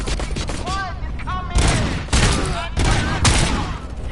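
Rapid bursts of gunfire in RoboCop: Rogue City, loud and close, with sustained volleys and sharp shot rattles overlapping one another.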